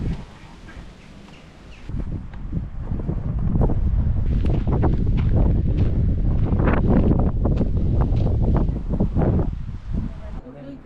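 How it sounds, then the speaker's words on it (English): Gusty wind buffets the microphone throughout with rumbling low noise, while a person talks underneath, outdoors while hiking in Wales. "It's a bit more windy today. I hope the sound quality is still good"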